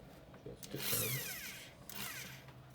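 An Einhell TC-ID 1000E impact drill driving a screw, two short whirring bursts of the motor separated by a brief pause, fairly close and with no talk over it.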